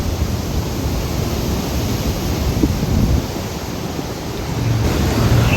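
Heavy water of the Sutlej or Beas river rushes past dam gates in a constant, dense roar, steady and loud without a break, the river high and water released downstream.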